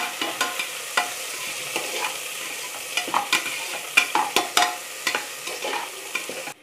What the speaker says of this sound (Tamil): இந்த வெங்காயம் நல்லா பொன்னிறமாக வதங்கணும்.